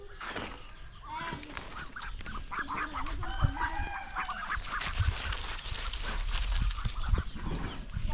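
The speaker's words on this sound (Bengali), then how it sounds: "এই যে এগুলো হচ্ছে আমাদের হাঁস।" A flock of domestic ducks let out in the morning at a rural farm, with loud overlapping calls and squawks mixed with rooster-like crowing and clucking, busy and close throughout.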